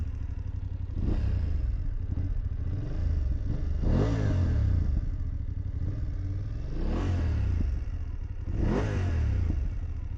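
A BMW F750GS motorcycle engine runs close by with a throaty exhaust note, idling with a steady pulse and rising in several sharp revs before settling again.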